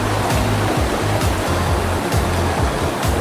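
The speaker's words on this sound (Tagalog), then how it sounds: "ang lakas ng agos" Strong river current rushing over rocks, a loud continuous roar of turbulent water filling the whole clip, close by with no voices.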